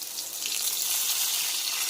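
Potatoes for alur dom frying in a pan: a bright, steady hiss of hot oil that stays even and close throughout, with no talk.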